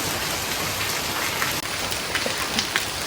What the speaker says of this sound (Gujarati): હા, વરસાદ ચાલુ હોય એટલે.